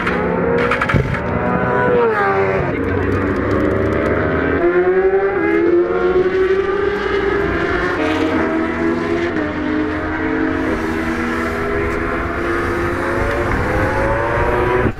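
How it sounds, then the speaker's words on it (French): A race car engine idles continuously, a loud, steady mechanical drone with shifting harmonic whines rising and falling, close by throughout. "Moteur allumé pendant 24 heures"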